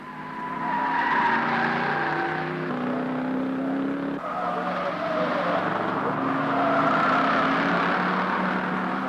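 Holden and Ford touring car engines at the 1969 Hardie Ferodo 500, sustained droning and revving as cars pass, loud and continuous with shifting pitch, no talk.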